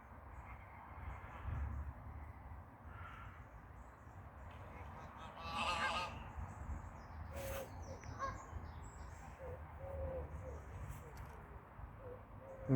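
Scattered goose honks rise over a steady outdoor rumble at lakes by Llanwern, Newport, a few calls standing out louder while others stay faint and distant.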